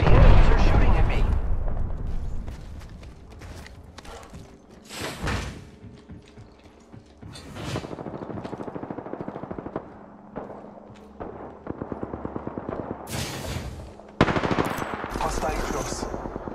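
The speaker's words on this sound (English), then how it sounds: "the enemies are shooting at me" Rapid automatic gunfire from enemies in the video game Apex Legends, Flashpoint mode, loud and close in repeated bursts with heavy impacts and explosive booms, mixed with in-game voice lines.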